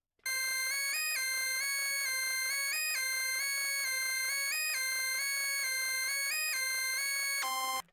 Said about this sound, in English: found this preset called Lead Werewolf in this Serum bank,